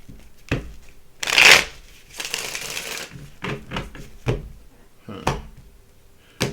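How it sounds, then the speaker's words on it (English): A deck of location and tarot cards is shuffled and cards are pulled, heard as a loud riffling burst followed by several shorter flicks and snaps, close and without talk. "I've been told to grab the location cards, so I'm going to pull some of those first"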